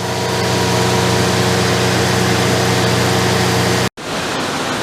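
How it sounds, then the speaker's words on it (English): A shop air compressor runs steadily and loudly with a continuous mechanical drone and hum, cutting out abruptly near the end before a quieter, rougher tail resumes. "of course my air compressor just had to kick on"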